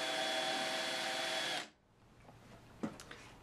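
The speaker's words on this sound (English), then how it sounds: "When drilling the holes for the feet, I use a piece of blue tape wrapped around the bit" A power drill with a brad point bit whines loudly and steadily for over a second while drilling foot holes in a wooden jewelry box, then stops, leaving faint room noise and a couple of small knocks.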